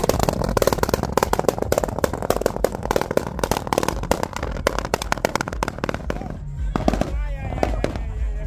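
A car exhaust at a stance car meet fires off rapid, loud popping and banging bursts in a dense crackling stream, thinning out near the end, with people talking nearby.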